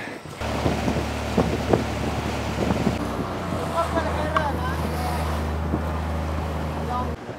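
A river cruise boat engine drones low and steady on the Kinabatangan River in Borneo, under rushing wind and water noise, with muffled voices talking nearby.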